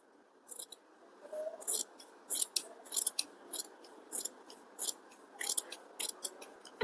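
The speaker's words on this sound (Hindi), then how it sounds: "बाकी का जो एक्स्ट्रा कपड़ा है उसको काट देना है" Scissors snip through blouse fabric, trimming away the extra cloth in a steady run of about a dozen crisp cuts. The snips are close and fairly quiet, with no talk.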